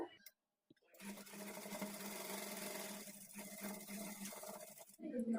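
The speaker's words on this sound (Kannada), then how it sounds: "ಕಾಲು ಇಂಚ್ ಮಾರ್ಜಿನ್ ಇಟ್ಕೊಂಡು ಸ್ಟಿಚ್ ಮಾಡ್ಕೊಳ್ಬೇಕು" Sewing machine stitching darts on a blouse front, a steady close whirring run that starts after a brief pause and continues unbroken for several seconds before stopping.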